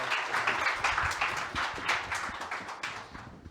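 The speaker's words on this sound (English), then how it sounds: "A round of applause for our speakers," Forum audience applauding the speakers at an Earth Forum panel, a dense wash of hand claps at moderate distance that holds steady for a few seconds and then begins to thin out.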